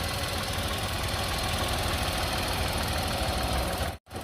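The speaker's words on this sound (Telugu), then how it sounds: "మనకి ఇంజిన్ సౌండ్ అన్నది కొంచెం తగ్గుతుంది" A 2021 Renault Kiger RXT petrol car with 19,500 km sits idling, its engine giving a steady, even rumble close to the microphone that cuts off abruptly near the end.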